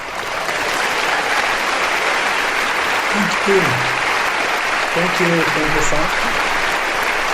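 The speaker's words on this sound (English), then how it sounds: "let us all welcome our regional Cheon co-chair with a round of applause" Steady, sustained applause fills the hall at an education program event as a regional co-chair is welcomed, with a brief spoken thanks heard over the clapping.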